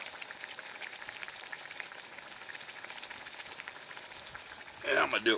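Native American fry bread crackles and bubbles in hot oil with a steady close-up sizzle, and a few louder pops and a burst of clatter come near the end.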